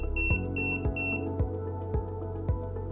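IoT wearable device for Alzheimer's patients sounding a lunchtime reminder alarm: repeated sharp electronic beeps in a regular pattern, close and clear, with no talk.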